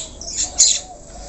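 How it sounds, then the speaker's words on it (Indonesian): Chinese starling calling, a couple of short, bright squawking chirps close up, the second louder, over a quiet background. "Di sini ada burung jalak Cina, teman-teman."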